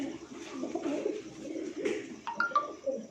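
A prized racing pigeon on a rooftop coos softly in repeated low calls, close by but quiet, with a few sharper chirps near the end.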